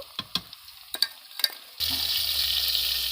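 Scattered soft taps and clinks give way to a steady, close sizzle of eggplant and beetroot frying in oil in a pan.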